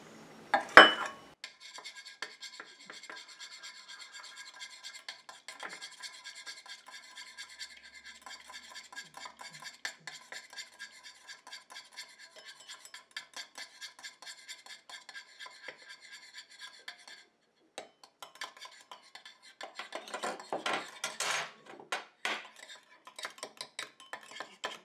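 Spoon or whisk stirring a warm cosmetic day cream emulsion, heated water phase mixed into heated oil phase, in a small bowl: steady close scraping and rubbing strokes, continuous and rhythmic, with a brief clatter at the start and louder scraping near the end.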